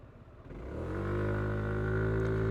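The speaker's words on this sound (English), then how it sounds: "that's like as fast as I can accelerate off the line" An electric scooter pulls away from a stop, its motor whine rising quickly in pitch into a steady, loud tonal hum over road and wind noise.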